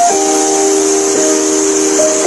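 A voice imitating a steady hiss forced out through closed teeth, a continuous bright breathy hiss held for a couple of seconds at close range, with no talking over it.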